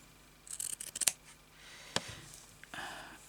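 Scissors snip through sewing material in a quick series of sharp, close cuts, followed by a lone snip and a faint rustle in an otherwise quiet room.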